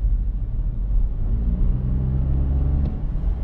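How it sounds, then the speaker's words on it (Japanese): Steady, low humming drone of a Toyota Yaris Cross gasoline three-cylinder engine driven through a CVT, heard from inside the car with a faint rise in pitch partway through and no talk. "エンジン音は3気筒ではあるが、4気筒エンジンに近い音がするので、悪くないです。"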